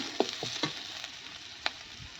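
Quiet, scattered crackles and pops of chopped onion frying in hot oil, with a few sharper spits and no talking.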